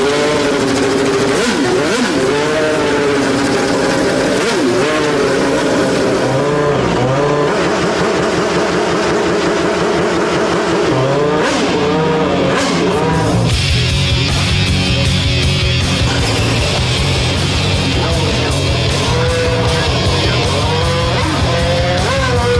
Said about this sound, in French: un moteur de Formule 1